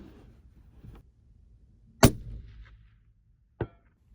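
A 6.5 Creedmoor rifle fires one sharp, loud report at a shooting range, followed by a brief decaying echo and a fainter metallic crack moments later, over quiet outdoor background.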